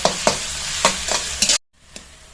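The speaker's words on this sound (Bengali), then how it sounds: "সুন্দর করে পেঁয়াজটা ভেজে নিব, একদম বাদামি কালার হওয়া পর্যন্ত ভাজতেই থাকবো পেঁয়াজটা।" Onions frying until brown for pangas fish, with a close, loud sizzle and several sharp stirring scrapes in the pan, followed by a sudden cut to near silence and one faint scrape.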